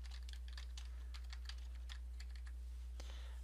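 Fingers tap out a short entry on a computer keyboard, quick light keystrokes in an irregular close patter over a low steady hum.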